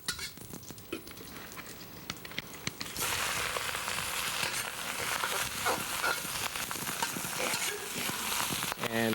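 Garlic hitting a very hot pan while cooking chicken adobo: light clatter and scraping at first, then a sudden loud, steady sizzle that continues to the end.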